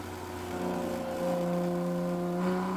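A Toyota Supra race car accelerating on a track, its engine note rising steadily as throttle is fed in, heard from inside the car as a continuous close drone with no talking.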